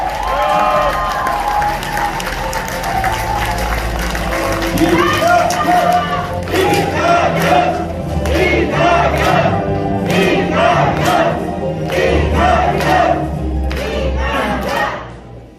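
A packed hall at the launch ceremony of a welfare forum in Gumi, where a crowd greets former party leader Lee Nak-yon with loud, sustained applause and cheering. Rhythmic surges of clapping pulse steadily through the dense roar.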